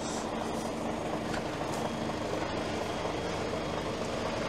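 A Mercedes Actros L truck idles at rest while its oil warms and air pressure builds, a steady low diesel rumble with a constant broadband hum, unchanging throughout and fairly close.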